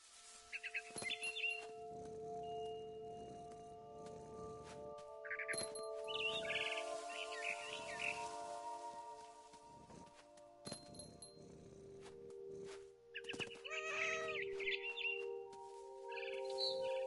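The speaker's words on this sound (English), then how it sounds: "Then I heard chirping outside my window. It was a barn swallow going back to her nest." In the video game What Remains of Edith Finch, a barn swallow chirps in short, scattered bursts over a faint sustained tonal background. The chirps are moderately close and intermittent, with no talking.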